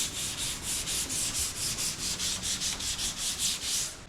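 A sanding block works back and forth across a car body panel on a BMW 335is build in a quick, steady rhythm of about seventeen rasping strokes. It is close and fairly loud, with no talking.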